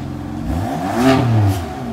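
A BMW M4 in sport mode revs up close by, its engine note swelling and rising in pitch to a single loud peak and then easing off, with no talk.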